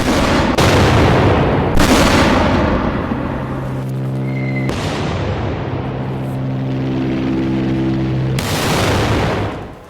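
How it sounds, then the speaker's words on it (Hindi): Heavy artillery shells exploding during Israeli strikes on Beirut: several loud, deep booms roll out one after another, each with a long rumbling tail, and a low droning hum persists between the blasts. "लगातार टारगेट कर रही है इजरायली जो सेना है, आईडीएफ, और लगातार गोले बरस रहे हैं"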